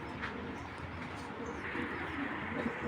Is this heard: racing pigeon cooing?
yes